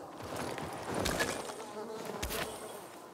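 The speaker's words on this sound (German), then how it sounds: "Das sind irgendwo Bienen." Bees buzz in the video game Dying Light 2 as a steady, droning insect hum. It swells louder and fades a couple of times as if passing nearby, and no speech is heard.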